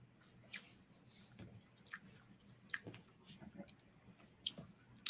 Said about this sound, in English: I'm chewing up one of these disgusting turkey sticks.